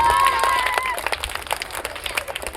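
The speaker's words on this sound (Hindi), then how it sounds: "जोरदार तालियां बजाइए।" An audience at a school's annual function breaks into clapping, a dense patter of hands that thins into irregular separate claps, with a faint tone lingering at the start.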